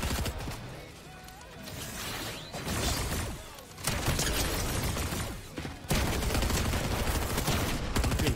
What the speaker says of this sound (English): I'm being shot by everybody.